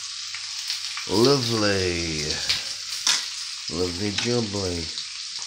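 A T-bone steak sizzles in a frying pan with a steady crackling hiss throughout, while a voice talks over it in a sing-song way.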